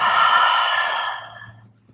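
A single long, breathy exhale released during a yoga flow into downward-facing dog, close and soft, trailing off into quiet.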